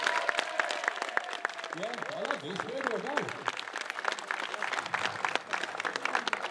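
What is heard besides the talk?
crowd cheering and applauding at a street car event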